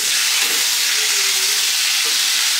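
Pork sizzles loudly and continuously in a hot frying pan as it is flipped to the other side, giving a dense, even crackle with no talk.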